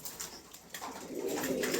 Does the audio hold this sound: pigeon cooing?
yes